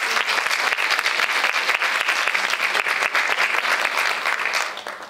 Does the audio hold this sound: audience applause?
yes